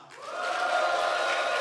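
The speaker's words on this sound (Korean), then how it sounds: "우리 모든 성도님들 다 같이 함성!" A church congregation shouts a cheer together, a crowd roar that swells quickly and holds loud and sustained, close to the listener.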